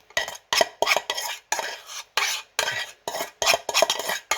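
Apples stirred in a pan for apple crumble, a close rhythmic series of scraping, clattering strokes from a utensil against the pan, about a dozen in quick succession.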